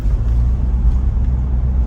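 Cabin road noise inside a Mitsubishi Pajero Sport 2 cruising at 60 km/h before sound insulation, a loud, steady low rumble with faint tire hiss and no talking.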